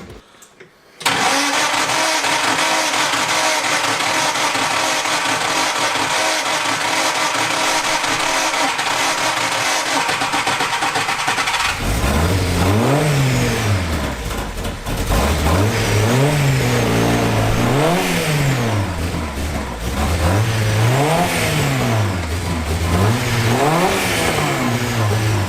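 A Van Diemen Formula Ford race car, first started in 30 years and running cold, cranks and catches, then holds a loud, steady fast idle before rising into repeated revs that swell and fall.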